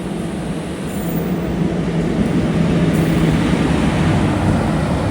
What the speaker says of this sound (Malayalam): Eranad express Thiruvananthapuram Mangaluru central. ഇത് ആലപ്പുഴ വഴി വരുന്ന വണ്ടിയാണ്.